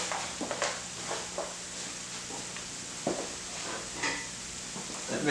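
Butter, onions and peppers fry steadily in a pan as flour is added for a roux, a soft continuous sizzle with occasional scraping and stirring knocks from a utensil, close and fairly quiet.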